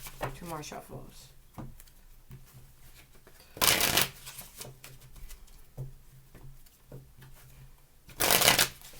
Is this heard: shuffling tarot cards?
yes